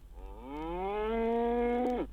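A single cow lets out one long, rising moo that holds steady for nearly two seconds before cutting off, fairly close and clear against a quiet low hum.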